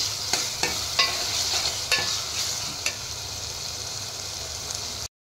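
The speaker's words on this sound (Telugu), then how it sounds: "అల్లం పేస్ట్ వేసుకొని బాగా మిక్స్ చేయాలి" Ginger paste being stirred into onions frying in a pan for a prawn curry, a continuous bright sizzle with several crisp spoon scrapes early on, close and even, with no voices.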